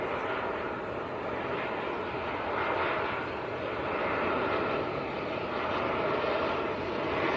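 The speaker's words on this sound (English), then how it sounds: "Now, next to land, this is the British Airways." A British Airways airliner arriving from Heathrow comes in to land at Manchester Airport with a steady, broad engine roar. The roar swells gently but stays fairly constant throughout, heard from a moderate distance with no voices over it.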